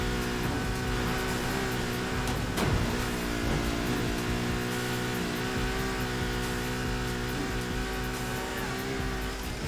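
A Ferrari LaFerrari in the racing game Need for Speed Heat roars continuously at high revs, with sustained engine drone and a brief shift or tire squeal partway through.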